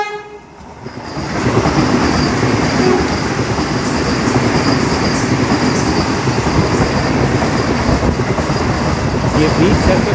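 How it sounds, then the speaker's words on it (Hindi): A Vande Bharat Express train rushes past a stationary train near Vaikom Road station in Kerala, a loud, steady rumble and rattle of wheels on rails after a brief rise, with a horn tone mixed in and some talk. "वहाँ हमारी ट्रेन खड़ी हुई है और ये ट्रेन क्रॉस कर रही है"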